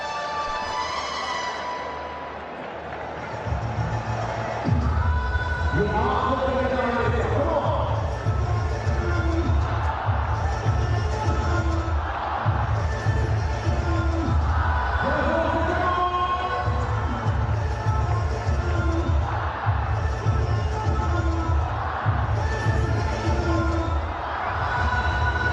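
Cricket stadium crowd at a PSL evening match, Quetta Gladiators against Peshawar Zalmi, a sustained roar of cheering and chanting that swells and dips in waves, with a commentator's voice faintly underneath.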